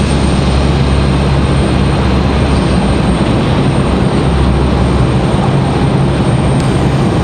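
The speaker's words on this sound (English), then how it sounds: "JetBlue 2184 headed off to Boston. That was an A220-300." JetBlue Airbus A220-300 jet departing Raleigh Durham International for Boston, its loud, steady engine roar filling the air with a thick low rumble and broad hiss that holds constant for several seconds.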